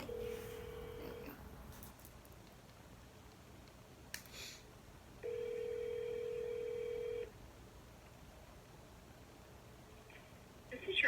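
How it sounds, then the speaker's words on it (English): Ringback tone of an outgoing telephone call to a college advisor's office, two long steady buzzing rings separated by a pause, fairly loud and clear with no talking over them. "I tried to call her back, but I think it was busy on the line."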